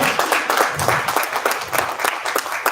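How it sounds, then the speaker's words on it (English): Applause from an audience at a summit breakfast event, a full, lively wash of many hands clapping close by, steady for the whole stretch with faint voices mixed in. "Another round of applause for SAP Ben."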